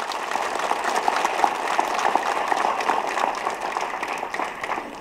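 Audience at a Kalaignar 100 centenary event applauding loudly and steadily for several seconds, a dense crowd of clapping hands close by.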